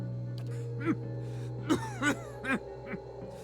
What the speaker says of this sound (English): all that emerges is a series of violent coughs